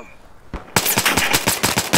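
Rapid machine gun fire in the video game Battlefield 4, about a dozen loud sharp shots in a fast burst after a brief quiet start, close and dominant.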